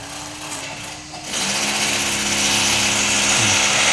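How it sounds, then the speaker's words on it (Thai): A steady, high-pitched motor whine of a grass trimmer runs continuously after a brief quieter start, loud and close, with a buzzing drone underneath. "กำลังตัดหญ้าเล็มหญ้าให้มันสวยงาม"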